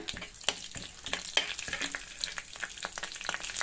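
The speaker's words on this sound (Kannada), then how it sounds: "ಎರಡು ಸ್ಪೂನ್ ಎಣ್ಣೆ ಹಾಕ್ಕೊಂಡಿದ್ದೀನಿ ಅರ್ಧ ಸ್ಪೂನ್ ಸಾಸಿವೆ ಅರ್ಧ ಸ್ಪೂನ್ ಜೀರಿಗೆ ಒಂದು ಸ್ಪೂನ್ ಬೇಳೆ ಹಾಕೊಬಿಡೋಣ ಅದು ಚಟಪಟ ಅಂದ ತಕ್ಷಣ" Mustard seeds, cumin and dal crackle and pop in two spoons of hot oil, a dense run of sharp spitting snaps over a steady sizzle with light stirring, no voices.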